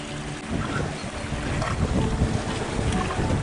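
A sailboat under way on a windy bay, with a steady roar of wind across the microphone and water rushing along the hull, continuous and fairly loud with no voices.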